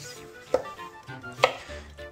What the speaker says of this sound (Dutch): Snijden de aardappel in mooie dikke stukken.